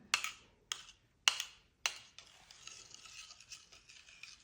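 A crispy salad dressing of corn, oil, lemon, olive oil and salt is mixed. Four sharp, evenly spaced taps come first, then a soft, continuous swishing stir, close and fairly quiet.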